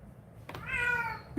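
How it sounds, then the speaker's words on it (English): A female cat in heat yowls once, a drawn-out, wavering meow that rises and holds for nearly a second, close and fairly loud, with a brief sharp noise before it and a thump after. "She's just crying out for cats"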